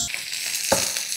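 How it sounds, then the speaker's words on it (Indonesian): Finely chopped garlic sautéing in a pan, a steady close sizzle with a brief scrape of a spatula partway through. "Sekarang gue tinggal saute bawang, abis itu selesai."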